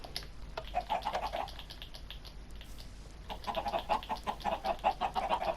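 Chickens clucking in the Minecraft video game, a run of short, fairly faint clucks repeating alone with no talk, thinning out midway before picking up again in a denser cluster.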